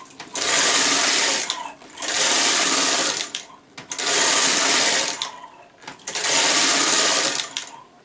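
A knitting machine carriage knitting rows of red yarn sweeps back and forth in four steady passes, each a loud, buzzing mechanical whir lasting about a second and a half, separated by brief pauses and clicks.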